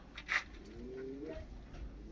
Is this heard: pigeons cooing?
yes